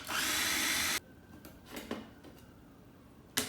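A food processor pulses ginger cubes with olive oil in a loud one-second burst of whirring blade noise, followed by faint clatters and a short final pulse near the end.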